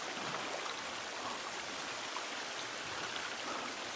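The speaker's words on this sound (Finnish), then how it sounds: "Eiks tää vesiputous ole ihan hyvä?" Water from a waterfall in The Forest game rushes steadily as a soft, even hiss, unbroken and alone for a few seconds.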